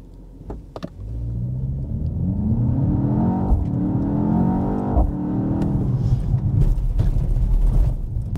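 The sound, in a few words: 2024 BMW X2 M35i accelerating from standstill in sport mode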